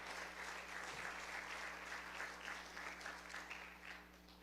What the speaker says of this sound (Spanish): Si va a aplaudir, déselo al Rey, no tenga miedo